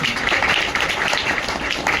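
A crowd at a temple jayanti celebration breaks into applause, a thick, continuous rattle of many hands at moderate loudness that holds steady throughout.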